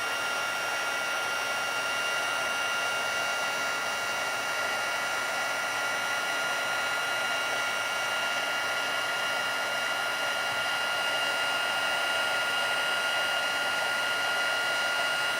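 A heat tool melting embossing powder during a stamping and card-making class blows a loud, constant whirring hum without a break, close to the mic and with no talk over it.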